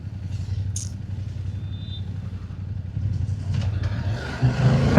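A 2025 BMW F800GS motorcycle engine drones steadily while lane splitting in traffic, a low rumble that swells louder toward the end as the bike picks up revs.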